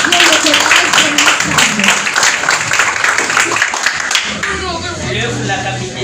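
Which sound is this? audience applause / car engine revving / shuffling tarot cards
audience applause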